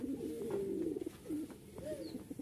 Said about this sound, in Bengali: এক জোড়া সবজি গিরিবাজ